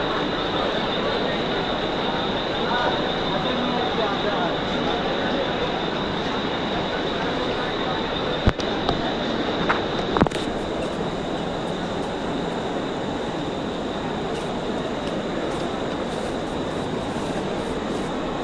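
Dense, steady rumble and hiss from a Mumbai local train at the busy Chhatrapati Shivaji Maharaj Terminus during the evening rush, with a couple of sharp clanks partway through.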